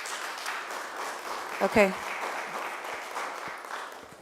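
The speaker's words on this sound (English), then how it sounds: "I appreciate your applause" Audience applause at a Dunedin city commission meeting during citizen input: a steady wash of clapping fills the room, with a brief spoken word from a voice partway through.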